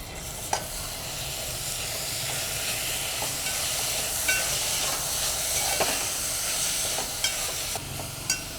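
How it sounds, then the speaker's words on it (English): Jaggery and coconut filling stirred in a pan, with steady soft scraping and a low sizzle running throughout, punctuated by a few sharper spoon knocks against the pan, close and moderately loud. "Keep on stirring"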